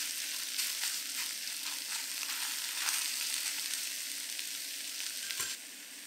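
Beef frying in hot oil in a pan for Mongolian beef stir fry, a dense, steady crackling sizzle, close and even, easing slightly near the end.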